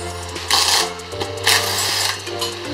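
A screw is undone on the wheel of a Dax motorbike during a tire change, with a steady mechanical whir and three rhythmic louder bursts close by.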